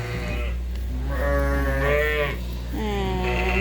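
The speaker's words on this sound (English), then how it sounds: "Here's another ewe with twins." Sheep bleat close by on a farm, with several long, wavering calls from ewes with lambs, over a steady low background hum.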